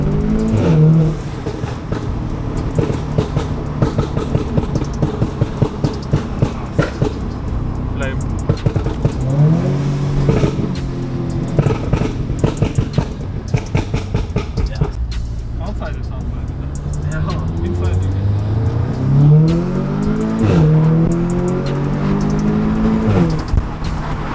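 A 2016 Audi S3 8V with a downpipe revs and accelerates through gears on a drive, its exhaust popping and banging on the overrun between pulls. People talk inside the car over the engine.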